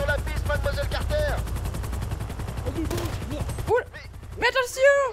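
Gunfire in the video game GTA, a rapid run of evenly spaced shots that fills most of the stretch and is heard under excited talk, then stops, leaving a few louder spoken bursts.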